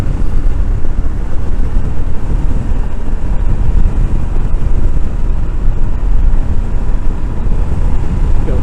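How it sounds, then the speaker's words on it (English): Heavy wind buffeting a microphone on a moving Royal Enfield Scram 411 motorcycle on a windy day, a loud, continuous low roar that covers everything for the whole stretch. "It really is a windy day today"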